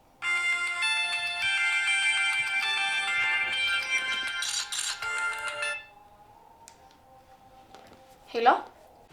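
A phone ringtone plays a bright repeating melodic tune for about six seconds, then stops, followed by a faint hum and a brief voice at the end.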